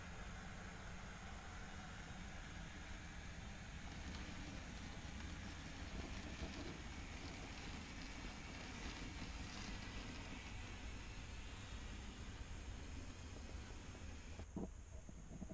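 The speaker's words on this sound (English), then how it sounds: "A pair of 67s pass on the main line with the IQ52 track monitoring train" A pair of heavy Class 67 diesel locomotives rumble past at steady volume hauling a track monitoring train on an N gauge model railway, a continuous low engine drone with rail noise throughout, close by.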